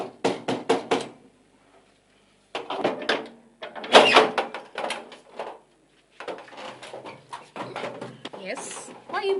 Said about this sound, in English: Why are you banging the door?